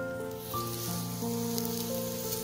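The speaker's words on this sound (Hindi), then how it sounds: "यहाँ पे बैंगन का फ्राई चल रहा है" Eggplant slices frying in a pan, a steady close sizzle and crackle running the whole time with faint kitchen noises over it, no talking.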